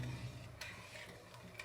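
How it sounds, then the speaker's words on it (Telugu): Sugar syrup for Mysore pak is stirred in a pan, producing faint, soft scraping strokes and a low bubbling hiss at close range. "చక్కెరను కూడా ఇలా కలుపుతూ ఉండాలి."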